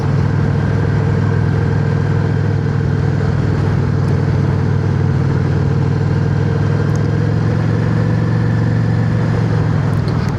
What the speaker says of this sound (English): Just as soon as I find somewhere to park the motorcycle.